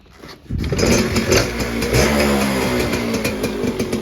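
A used off-road motorcycle engine catches after half a second of quiet, then runs loud and close with a rough, uneven idle.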